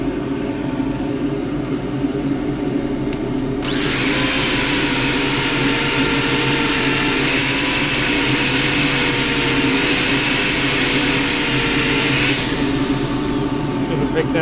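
A Tasmanian sassafras rectangular bowl being sanded on a spinning wood lathe: a steady, loud abrasive hiss runs for about nine seconds over the constant low hum of the lathe motor, then cuts off.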